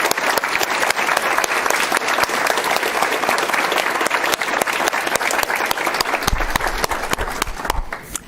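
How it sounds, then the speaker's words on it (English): A crowd at a Wake County School Board meeting gives the evening's winners a round of applause, loud, dense and sustained clapping with occasional cheers, tapering off at the very end. "Can we give one more round of applause for all of our winners this evening?"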